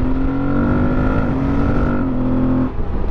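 An Aprilia Tuareg 660 motorcycle with a quickshifter runs on the highway, its engine droning steadily and stepping down in pitch through quick, smooth downshifts, with wind noise around it.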